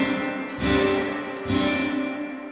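A guitar through a Line 6 Helix Dynamic Hall reverb with predelay at its 200 ms maximum: two distorted chords are struck, each followed by a wide, washy hall tail that rings on between hits.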